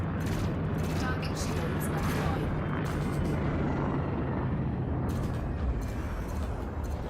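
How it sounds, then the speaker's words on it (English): Ship-mounted beam lasers fire continuously at a Cobra spacecraft in the Elite Dangerous space combat game, a dense, loud, roaring crackle with a steady low drone that runs unbroken throughout. "these beams are cutting this Cobra to bits"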